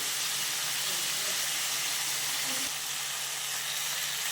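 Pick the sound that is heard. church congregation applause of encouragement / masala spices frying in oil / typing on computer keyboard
masala spices frying in oil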